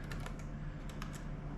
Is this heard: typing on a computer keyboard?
yes